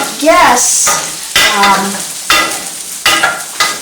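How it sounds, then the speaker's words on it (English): Potatoes frying in a pan that is too hot, with the food stuck to it, are stirred in several separate scraping strokes over a steady sizzle, up close and fairly loud. "let me stir these potatoes"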